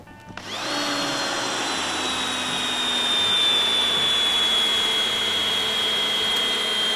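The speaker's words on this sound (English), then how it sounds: "and drill our hole." A drill bores a hole through tile held by a suction clamp, with a small water bath over the spot to contain the dust. A steady, loud whirring grind starts after a brief moment and runs unbroken to the end.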